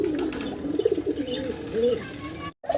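Deshi golla (coloring golla) pigeons cooing close by, a few low rolling coos in a row that stop abruptly near the end.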